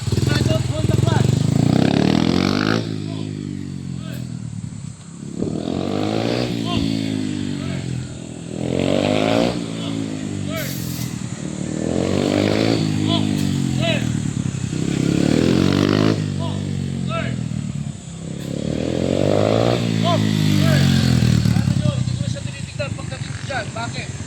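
Motorcycle engine on the Marilaque road rising and falling in about five repeated throttle swells, each revving up then easing off, loud and close throughout, with a person talking over much of it.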